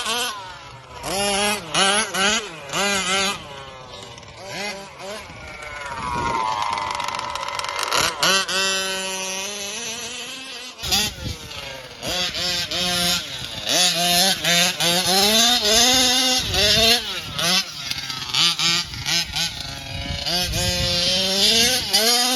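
A Kraken Vekta 5 gas-powered RC car engine revs hard and drops back again and again, a loud buzzing two-stroke whine rising and falling in pitch through most of the stretch.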